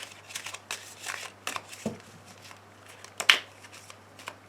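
Soft cards being shuffled and drawn for an oracle reading, quiet papery swishes and flicks in short irregular bursts, with one brief sharper snap.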